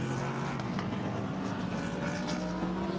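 A Lamborghini race car circling the Nürburgring circuit during GT World Challenge qualifying, a steady engine drone heard from a distance.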